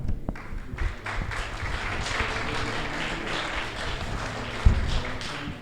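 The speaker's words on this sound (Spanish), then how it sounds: "Un aplauso para nuestros amigos del Laboratorio TEA." Audience applause rises in a moderate, fairly close room, a continuous patter of many hands with scattered taps and a brief thump near the end.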